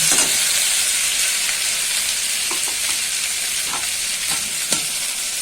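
Potatoes and spices stir-frying in a hot pan, a loud continuous sizzle with soft scraping strokes of a spatula, close up, no talking.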